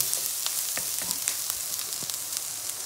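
Green chillies and curry leaves hit hot frying oil with a dense, steady sizzle, scattered pops and crackles spitting throughout at close range.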